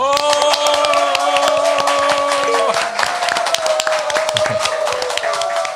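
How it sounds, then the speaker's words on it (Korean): A studio audience claps to open a Korean current-affairs talk show, brisk applause layered over a short musical jingle that cuts off midway, with the clapping carrying on loud and close afterward. "여러분의 힘찬 박수와 함께 시작하겠습니다"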